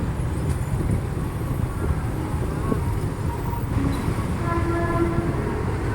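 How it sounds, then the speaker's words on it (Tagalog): A train rumbles past near a city roadside on Osmeña, a steady, heavy, continuous roar of wheels and wagons with a faint horn-like tone near the end and street traffic around it. "Ayun, may train na naman."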